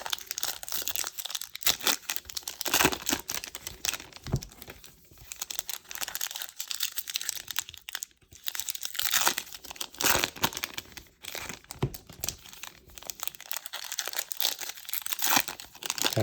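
Plastic blister packs of 2022 Topps Series 1 baseball cards being opened close up: continuous crinkling and crumpling with sharp tearing bursts, steady throughout with brief pauses.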